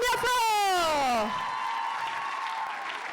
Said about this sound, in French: Et on applaudit encore bien fort